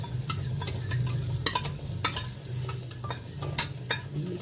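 Tomato sauce is stirred into frying cauliflower manchurian in a pan, making scraping spoon strokes and clinks over a low sizzle, close and without talking.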